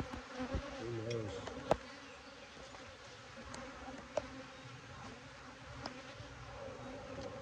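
Honey bees buzz in a faint, continuous hum during a hive inspection, with a few soft knocks and clicks from handling the hive.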